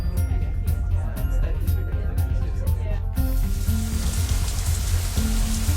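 Steady rain falls outside in a visual novel game at night after leaving the Shanghai, a continuous hiss that brightens partway through, with a low background hum beneath it.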